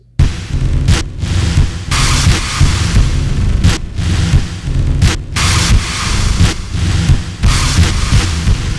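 Drum hits through an MXR Submachine distortion pedal and an Earthquaker Afterneath reverb pedal, heavy with a dense, washy tail, loud and continuous, the beats blurring into a thick rumbling roar.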